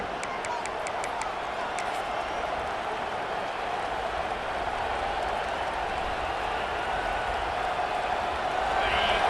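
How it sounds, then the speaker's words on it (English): In the College Football 26 video game, a vast stadium crowd roars in a steady dense wash of cheering that swells slightly toward the end, with faint rhythmic clapping early on and no clear talk. "listen to this crowd noise. This stadium is vibrating."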